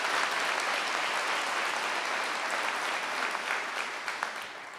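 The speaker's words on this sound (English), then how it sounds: "he deserves a round of applause right now for his hard work and dedication" Audience applause following a governor's speech on broadband expansion, a steady wash of clapping from a large crowd that tapers slightly toward the end, with no voices over it.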